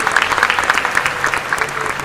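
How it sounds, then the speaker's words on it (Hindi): Audience applause at a Krishna Katha spiritual talk, a loud, close burst of many hands clapping with a crowd murmur and rhythmic clap accents. "जिनकी तालियां दिखाई देंगी।"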